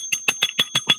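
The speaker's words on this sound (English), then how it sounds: "This will wake him up. I got this new bell thing." A newly acquired bell rings six times in quick, even succession, each strike bright and close with a sustained metallic tone.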